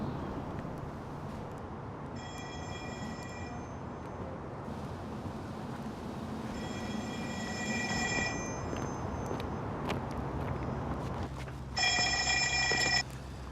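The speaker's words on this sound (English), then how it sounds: "Is that a phone ringing?" A telephone bell rings in a few separate bursts over steady low rumbling background noise, the last burst loudest and closest.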